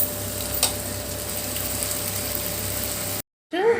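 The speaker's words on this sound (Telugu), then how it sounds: "ఆనియన్స్ బాగా ఫ్రై అయిన తర్వాత అల్లం వెల్లుల్లి పేస్ట్ వేసుకుంటున్నాము 1 స్పూన్. ఇది పచ్చివాసన పోయేంత వరకు ఫ్రై చేసుకోవాలి." Onions and ginger garlic paste fry in oil with a steady, close sizzle and occasional stirring scrapes, cutting off abruptly before a brief return of sizzling.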